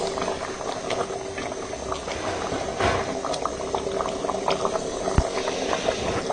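Water boils steadily in a pot of chickpeas cooking on a stove, a continuous bubbling hiss with scattered pops and small bursts, close and moderately loud, no talking.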